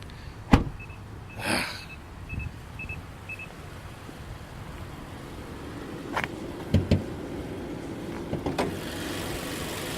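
A 2019 Mazda CX-9 Signature AWD's hood release is pulled: a sharp click and thunk, then later a few softer mechanical clicks and clunks against a low engine-bay hum.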